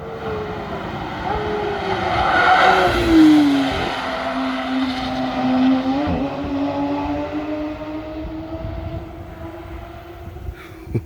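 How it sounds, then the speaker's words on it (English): A naturally aspirated flat-six sports car engine sweeps through its revs as the car accelerates, a loud rising and falling howl with harmonic whine that holds steady for about eleven seconds, with no talking over it. "Gotta love the naturally aspirated flat 6."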